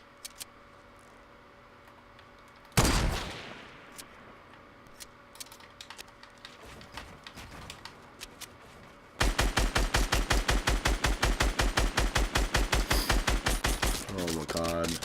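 Burst-fire weapon in Fortnite, first a single loud crack, then a long run of rapid, evenly spaced shots in close succession near the end, up front and sharp.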